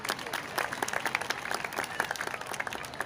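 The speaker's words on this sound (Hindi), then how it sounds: "इनके लिए भी भरपूर तालियां।" An audience at a Catholic church event applauds a guest, a steady patter of many hands clapping at moderate distance for the whole stretch.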